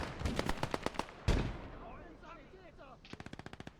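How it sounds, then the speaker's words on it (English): Grenade blasts in the Gates of Hell PvP video game: one heavy explosion breaks in among rapid bursts of gunfire that rattle before and after it. "Grenades going in like crazy."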